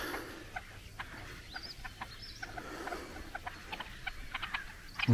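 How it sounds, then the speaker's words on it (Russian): Ducks on a partly iced-over spring pond in the South Urals give scattered, fairly faint calls over quiet open-air ambience, with no one talking. "Утки."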